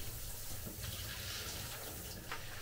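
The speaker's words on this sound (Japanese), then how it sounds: "あ、シャワーをね、浴びましょうね。" A shower runs with a steady, even hiss of spray that holds at one level without a break, and no one speaks.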